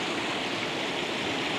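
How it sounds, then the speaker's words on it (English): An outdoor waterfall gives a steady, dense, full-bodied rush of falling water, loud and close, with no talking. "waterfall over here. It's not the biggest, but the sound and stuff, it's just so relaxing, so calming."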